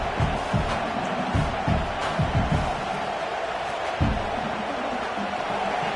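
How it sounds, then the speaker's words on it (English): A stadium crowd at a football game roars continuously, loud and dense throughout, with occasional swells and shouts rising out of the wall of noise. "This crowd, full throat, spreading the eardrums"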